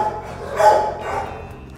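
A dog gives a single bark at moderate distance during an outdoor stop on a motorcycle ride, a brief yelp standing out over low steady background noise.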